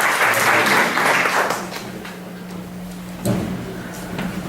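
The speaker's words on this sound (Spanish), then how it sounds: "Todos recibimos con un fuerte aplauso." An audience applauds to welcome a lecturer at an academic chair event. The clapping starts full and loud, then thins out and fades within a couple of seconds, leaving a quiet hall with faint scattered noises.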